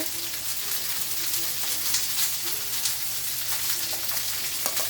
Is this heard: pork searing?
yes